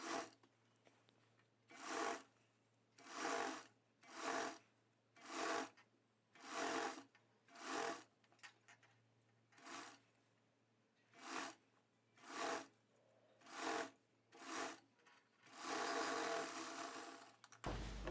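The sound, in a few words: sewing machine stitching blouse lining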